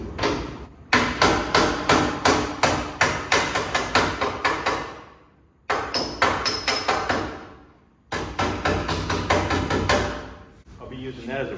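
A hammer taps repeatedly on the sheet-metal body of an old Datsun truck under restoration, loud close metallic strikes in rapid, steady runs separated by short pauses, each hit ringing out briefly.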